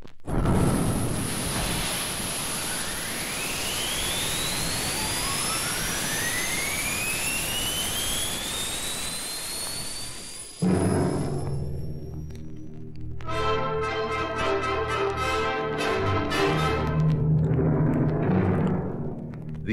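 A rocket engine fires after a countdown, a loud roaring jet-like blast with rising whistling tones that sweep upward over about ten seconds, then shifts into brassy stereophonic music.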